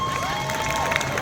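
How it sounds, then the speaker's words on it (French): Audience clapping and cheering for Billy the Kiss at a French dubbing show event, a dense, steady crowd roar with scattered whistles, loud and close throughout its short length. "On peut applaudir Billy the Kiss"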